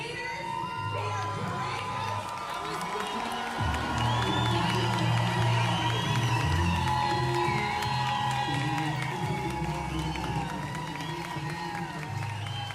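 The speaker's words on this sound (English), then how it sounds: "give a round of applause for they are leaders" A large crowd claps and cheers for doctors at a BC COVID vaccine tour event, a loud, dense roar of applause and shouting that holds steady throughout.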